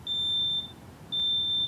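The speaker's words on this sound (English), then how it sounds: "A smoke alarm." Two long, piercing high-pitched beeps from a smoke alarm, separated by a short pause, over a low background hum.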